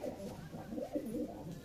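A female pigeon in a loft gives a short, soft, low cooing call, faint and close, repeated in quick wavering pulses.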